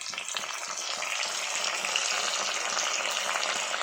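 Onion and curry leaves fry in hot oil for a Tamil dry fish curry, a dense, continuous crackling sizzle close by, with faint stirring scrapes and no voices.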